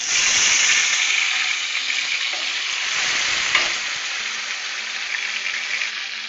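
Tomatoes frying in hot oil in a pan for tomato pickle: a loud, steady, dense sizzle that runs without a break and eases slightly toward the end, with no voices.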